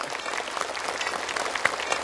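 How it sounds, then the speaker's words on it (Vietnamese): Studio audience applause on a Vietnamese television game show, a steady sustained clapping that fills the room at moderate volume with no talk over it. "Ồ, một tràng vỗ tay nữa đi thưa quý vị."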